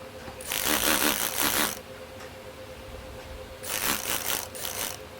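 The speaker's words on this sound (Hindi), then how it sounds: "मैं इसी के किनारों पे सिलाई कर लूँगी पूरे मतलब जो योक मैंने अटैच किया उसके किनारों में ऊपर से" A sewing machine stitches along the edges of an attached yoke on a child's smocked frock, running in two close, rapid whirring bursts of about a second each with a quieter pause between.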